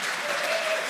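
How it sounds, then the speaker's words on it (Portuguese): Audience applause for Matheus Ribeiro at a live talk event, a short steady burst of many hands clapping close and loud throughout, with no voices over it. "Uma salva de palmas para o Matheus Ribeiro"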